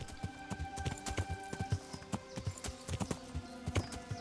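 Steady rhythmic clip-clop of horse hooves trotting in Kingdom Come: Deliverance, with a soft background music bed underneath; no talking.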